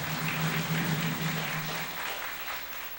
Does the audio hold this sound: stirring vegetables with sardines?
no